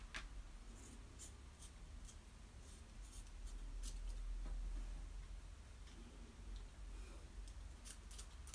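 Scissors cutting in small snips, a series of quiet crisp clicks scattered over a low steady rumble, close and faint, with no talk.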